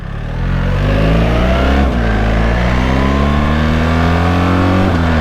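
A 2025 BMW 1300 GSA motorcycle engine pulls hard under acceleration, its loud, close drone climbing steadily in pitch and then dropping abruptly as it shifts up a gear, with the engine roaring on alone.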